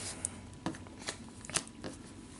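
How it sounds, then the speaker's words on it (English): A deck of cards is shuffled during a Pathfinder tabletop game, giving a few soft riffling flutters and light snaps, close and quiet over a faint background hum. "now that all the shuffling is done"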